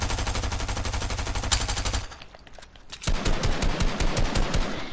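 Rapid automatic gunfire from the video game Fortnite while shooting at targets, dense bursts of fast repeated shots with a short lull before firing resumes, loud and without talk.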